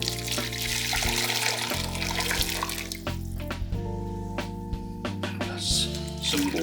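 Water pours into a cooking pot holding beef brisket and a chicken stock cube, making a steady splashing trickle that runs without a break for several seconds, with no talking.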